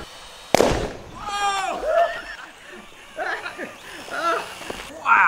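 A chain of methane-filled balloons ignites in quick succession, opening with one sharp, loud burst followed by softer pops and whooshes, with people laughing and voices reacting throughout.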